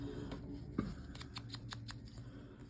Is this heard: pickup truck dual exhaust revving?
no